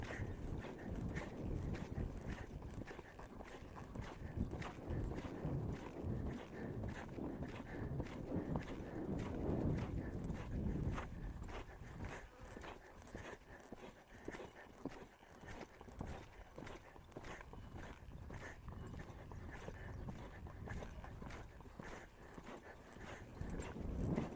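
Horse hooves clopping in a continuous uneven rhythm for a long stretch, with faint jangling and wind in the background.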